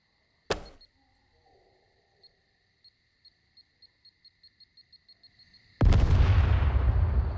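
Makeshift explosive arrow in the game SCUM goes off with a sharp blast, then a series of quickening beeps builds toward a second, louder explosion whose rumbling roar carries through the end.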